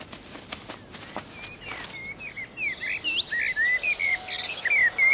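Many birds chirp and call at once, a busy cluster of short rising whistles that grows denser and louder after a few soft taps and rustles at the start.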